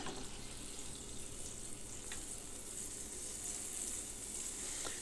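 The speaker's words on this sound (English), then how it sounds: "I'm going to use just enough butter to give the bottom of the pan a nice even coating." Butter sizzling in a frying pan over medium heat, a steady, even hiss heard close and alone.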